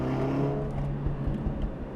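A Mercedes-AMG A45 S engine while driving, a close, continuous engine drone with a steady low hum and some buzzing mechanical texture, with no talking.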